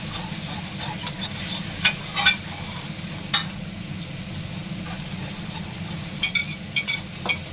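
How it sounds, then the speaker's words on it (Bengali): Fish rezala masala with black pepper powder is sautéed in a pan, a steady low sizzle broken by intermittent scraping and stirring clinks, close up and with no speech. "গোলমরিচের গুঁড়ো দিলাম, আবার একটু কষিয়ে নিচ্ছি।"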